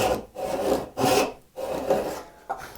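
A sharp hand saw cuts wood for a half lap joint in rhythmic back-and-forth strokes, each a close, raspy rush of teeth through the grain, about four strokes with brief pauses between.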